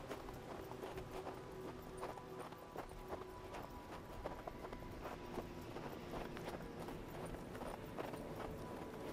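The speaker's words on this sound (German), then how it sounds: "Dann reiten wir mal los." Horse hooves clip-clop in a steady trotting rhythm while riding in the Western video game Hard West 2, a continuous near beat over a constant low ambient backdrop with no voices.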